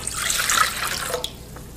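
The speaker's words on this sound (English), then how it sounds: "We're going to add our warm water to it" Warm water pours into a bowl of yeast and sugar in a kitchen, a close, steady splashing stream for about a second before tapering to a few faint drips.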